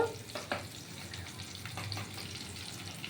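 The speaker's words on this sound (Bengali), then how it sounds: "পেঁয়াজটা একটু নাড়াচাড়া করবো একটু সামান্য নাড়াচাড়া করব" Onions frying in a pan for chilli chicken, a quiet steady sizzle with a few soft scrapes and knocks from stirring near the start, faint and continuous, with no voices.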